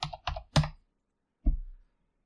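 Keys on a computer keyboard clack in a quick burst of three taps, followed after a pause by a single firmer keystroke, close and quiet.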